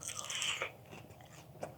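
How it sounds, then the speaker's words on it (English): Someone bites into a fried chicken wing coated with baking powder, giving a quiet, brief crisp crunch followed by a softer chew, heard up close with no talking. "Can you hear that crunch?"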